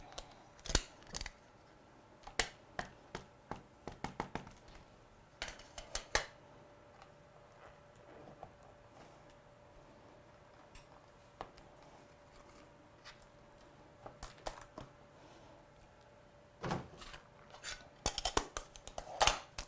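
Scissors snip through stamped paper in short, crisp clicks, first in a quick run and then in scattered cuts, with a cluster near the end. Close and quiet, with no talking.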